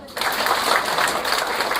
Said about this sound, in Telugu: ఒకసారి క్లాప్స్ కొట్టండి.